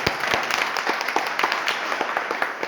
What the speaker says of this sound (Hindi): इसके लिए मैं पूरे सदन का जोरदार तालियों से स्वागत करता हूं